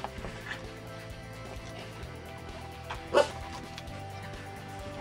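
A dog with a frog in its throat makes wet, gurgling throat sounds indoors in a new house. Brief louder bursts stand out over a low, steady background hum.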